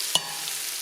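Beef browning in a pan for a crockpot stew is stirred and turned, giving a single short scrape against a faint, steady sizzle that stays quiet throughout.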